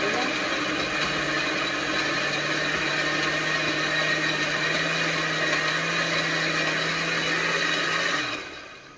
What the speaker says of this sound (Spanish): Y vamos a estar licuando.